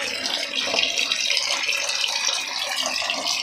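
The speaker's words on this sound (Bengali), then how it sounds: "এই গিজারটা চলছে, দেখো তো" Hot water running thinly from a geyser tap, a steady close hiss and splash of a light flow with faint rattling, no voices.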